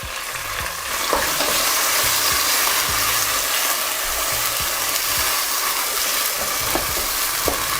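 Onions, tomatoes and ginger garlic green chili paste sizzle loudly in hot oil, with a steady close-up frying hiss and occasional stirring scrapes of a utensil.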